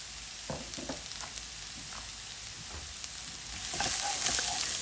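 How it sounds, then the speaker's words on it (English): Carrots, sliced garlic and onion stir-fry in a pan for chicken noodles. A spatula scrapes and taps at intervals over a low continuous sizzle that swells louder near the end. The sound is close, with no voices. "Mix all together and allow the onion to also cook in a mix."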